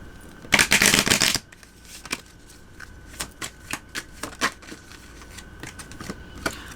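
A deck of oracle cards is riffled in one loud burst, followed by a series of softer, irregular card taps and flicks as the cards are handled and laid down.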